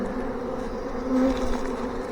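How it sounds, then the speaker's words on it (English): A honey bee swarm hanging on a trap frame produces a dense, continuous buzzing drone close by, with individual bees whining past now and then. "We got bees just moving all around right now."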